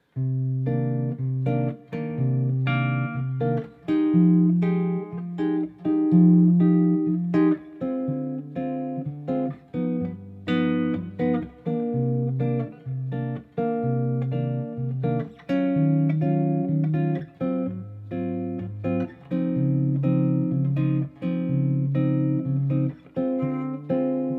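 A jazz chord progression is played as a slow series of rich, sustained chords, each held for a beat or two, with no voices.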